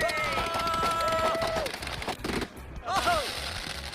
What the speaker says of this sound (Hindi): मैंने बस रैंडम पटाखे खरीदे थे, सोचा नहीं था इतना बवाल मच जाएगा